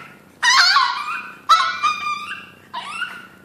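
A Chihuahua whines and cries for food in three drawn-out, high-pitched bursts, close by and loud, with short pauses between them.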